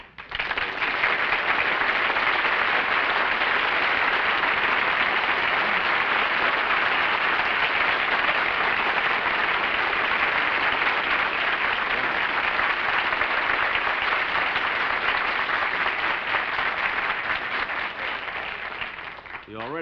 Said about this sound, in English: Got more applause than I did.